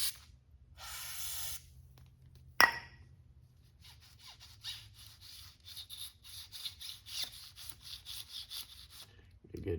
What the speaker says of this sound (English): I'm gonna go ahead and just spray some, this is like silicone lubricant down into the cable.